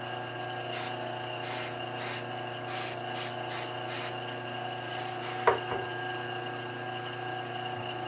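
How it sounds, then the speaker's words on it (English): Satellite City accelerator sprayed onto super glue in several short hissing pump bursts, about seven in quick succession, close and moderately loud over a faint steady hum, followed by a single sharp click and quiet after. "Hit that with a little bit of Satellite City Accelerator."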